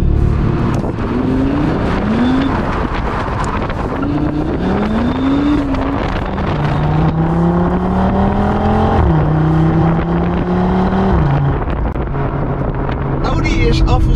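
A 2022 Audi RS3 in torque rear drift mode revs loudly and continuously, its engine note climbing and dropping in repeated surges as it shifts through gears, with wind buffeting the microphone throughout.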